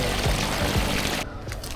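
Continuous rushing of water flowing down a slope on the Pekoe Trail near Galaha, Sri Lanka, broadband and steady, close by, with no voices, then a brief shift in tone near the end.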